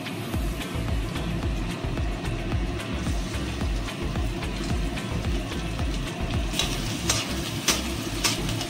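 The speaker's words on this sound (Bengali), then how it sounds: "এগুলো আমি এবার তেলে দিয়ে দেবো, সুন্দর করে ভাজা হবে।" Chopped garlic and green chillies fry in hot oil in a pan, giving a steady, close crackling sizzle that holds evenly throughout with a few sharper pops near the end.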